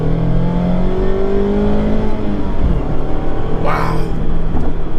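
A tuned car engine drones loudly and close, with a rising revving pitch that sweeps up and down, and a brief higher whine near the end.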